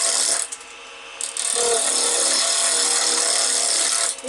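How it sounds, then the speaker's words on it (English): A spindle gouge cuts into a spinning piece of wood on a lathe, shaping a banksia pod mushroom head, making a loud, close, continuous scraping hiss with a brief dip early on and a tail-off at the end. "take my spindle gouge and I'm going to start shaping the head"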